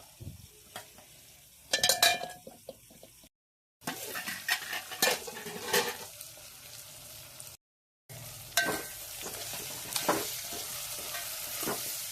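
Chicken frying in oil with ginger and turmeric in a pan, soft sizzling broken by scraping spoon stirs and metal clinks against the pot, with two brief gaps of silence.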